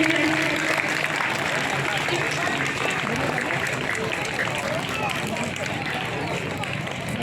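A school audience claps continuously in welcome for a visiting legislator, with a thick, sustained rattle of many hands and voices mixed in throughout.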